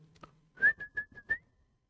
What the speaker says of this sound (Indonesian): Saya siul.